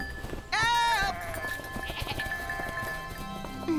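A goat lets out a single loud, wavering bleat nearby in an animated mountain pasture scene, followed by quieter ambient sounds and faint voices.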